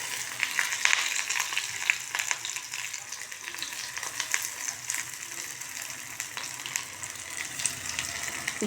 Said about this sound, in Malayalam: ഈ ചെറിയ ഉള്ളി നന്നായി ഒന്ന് മൊരിയട്ടെ